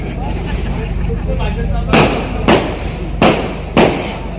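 Four sharp firecracker bangs go off at uneven intervals, each a loud broadband crack over a steady background of chatter and noise.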